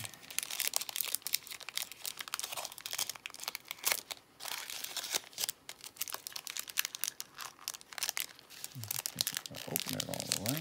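Crinkly plastic wrapper of a 2021 Topps baseball card pack being torn open, a steady run of close crackling, crumpling and tearing with a brief voice near the end.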